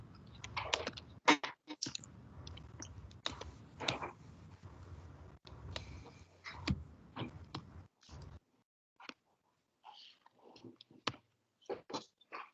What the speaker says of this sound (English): just give me 1 sec to finish the typing